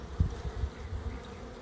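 A soft, low drone of many honey bees in a hive hums steadily throughout, with a few dull knocks early on, fairly faint and close by.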